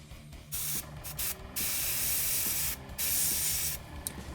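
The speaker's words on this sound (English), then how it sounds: "So we're going to put some Seraphim Sepia into the airbrush." An airbrush sprays Seraphim Sepia paint in several bursts of steady hiss, close and fairly loud, with brief pauses between them and no talk.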